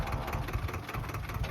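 A tractor engine runs steadily at idle close by, a continuous low rumble with a faint rhythmic pulse, heard alone with no voices.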